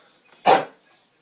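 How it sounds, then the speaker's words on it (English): A single loud, close dog bark, one sharp burst standing alone in an otherwise quiet room. "Is that your dog? puppy?"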